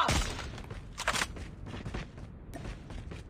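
Sniper rifle fire in a video game: a string of sharp, loud shots, several cracks spread across the moment, no talking.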